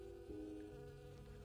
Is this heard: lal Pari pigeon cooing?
no